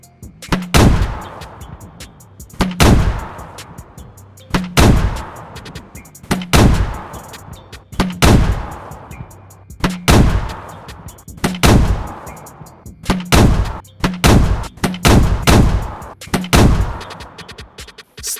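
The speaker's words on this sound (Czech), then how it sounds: "teď se koukneme na to, jak si plechová stěna poradí s granátometem" A 40 mm grenade launcher in DayZ firing explosive rounds at a sheet metal wall, about a dozen loud, sharp booms with ringing decay, spaced roughly one to two seconds apart, with no talking.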